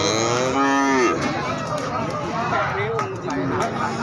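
Cattle moo at a livestock market, with a loud, long bellowing call in the first second, then shorter, fainter lows. Constant crowd noise sits underneath, and people talk nearby.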